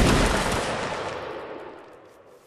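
A line of infantry fires a musket volley in Mount & Blade Warband Napoleonic Wars, one loud, dense, crackling burst of many shots that trails off into a long fading rumble.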